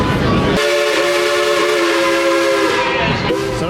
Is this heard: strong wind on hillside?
no